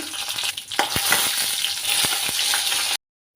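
Fenugreek seeds, cumin and three dried red chillies hit hot tempering oil with a loud, close, continuous sizzle, interrupted by a few sharp spoon taps before cutting abruptly to silence.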